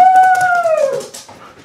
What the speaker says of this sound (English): are you squeezing my dog?